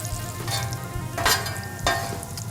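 Olive oil sizzling steadily under a plant-based Impossible burger smash patty, a close, continuous frying hiss with a few louder crackling bursts and no talk.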